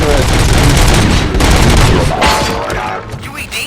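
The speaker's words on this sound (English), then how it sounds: "Gunshots? What's going on?" Gunfire erupts in the RoboCop: Rogue City video game, a loud close barrage of rapid shots and booms that thins out toward the end, with speech mixed in.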